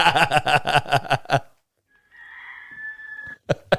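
An artificial chicken sound, a fake rooster-style crow, rings out as one drawn-out, wavering call in a brief pause after people talk, and conversation resumes right after it.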